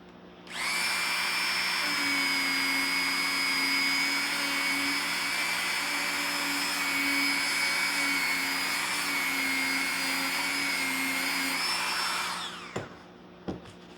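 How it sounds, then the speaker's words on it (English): A power tool whines steadily at close range while guitar frets are sanded and polished, a sustained high-pitched hum with a slight rubbing texture that runs about twelve seconds before winding down and ending with a couple of clicks. "And further sand it. Further polish it."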